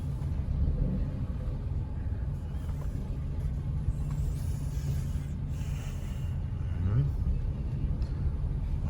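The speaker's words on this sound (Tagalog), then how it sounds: "Matraffic nga lang dito kasi paglabasan." Road traffic near a crowded intersection rumbles past at a busy exit, car engines humming and swelling, with one vehicle revving up near the end while a voice talks over the noise.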